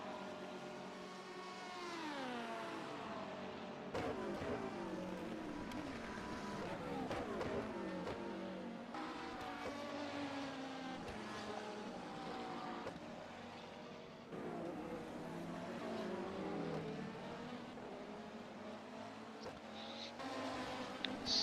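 Race cars in a sim-racing endurance event at Portimao whine past as engine notes rise and fall through gear changes, moderately loud under continuous commentary.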